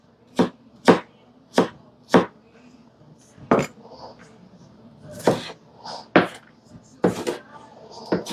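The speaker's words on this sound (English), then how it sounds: "you're really supposed to do all this on a cutting board. So I'm going to just chop up about a cupful" Knife chopping pickles on a cutting board: about nine crisp, sharp chops land in an uneven rhythm, close and clear, with a faint low background hum and no talking.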